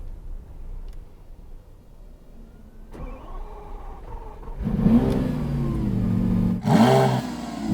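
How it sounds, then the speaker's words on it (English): A Lamborghini Aventador SVJ cold start: a starter whir, then the big engine catches with a loud rising roar, settles briefly and blips again, close and forceful with no voices. "Here's the cold start on the SVJ."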